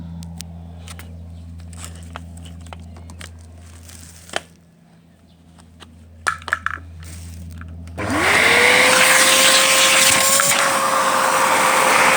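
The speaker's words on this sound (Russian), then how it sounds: "Сейчас попробуем пропылесосить, возможно это что-то даст." Vacuum cleaner cleaning the clogged cabin air filter of a Mazda CX-5: light clicks and handling noises, then the motor starts abruptly and whines loud and steady, its pitch rising briefly before settling.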